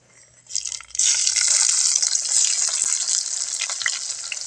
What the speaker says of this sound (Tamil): நறுக்குன வெங்காயம் பெரிய பல்லாரி ஒரு பல்லாரி சேர்க்குறோம்